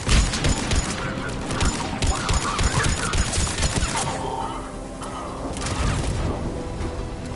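Dense gunfire crackles at a checkpoint in Mass Effect 3, a steady barrage of close shots and impacts from a video game battle, with voices talking over the fighting.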